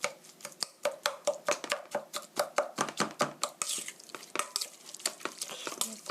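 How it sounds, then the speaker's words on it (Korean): Sliced beef is stirred with a tablespoon of rice wine in a bowl, making quick, rhythmic wet slaps and clicks. The strokes come in a steady series, close and alone. "라이스 와인 청주 1 테이블스푼 넣어주시고요. 고루 섞어주세요."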